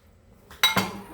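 A short clink of dishes and cutlery being washed, two quick clattering knocks close by after a moment of near silence.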